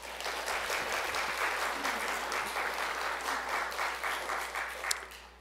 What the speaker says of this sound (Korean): 장식부와 또 우리 꽃을 담당하시는 분을 위해서 우리 박수 한번 할까요?